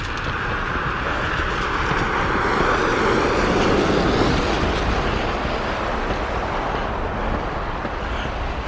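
A train passes unseen nearby during heavy December snow, a steady broad rumble that swells toward the middle and then slowly eases, with no one talking.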